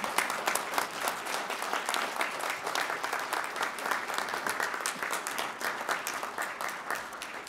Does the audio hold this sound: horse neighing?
no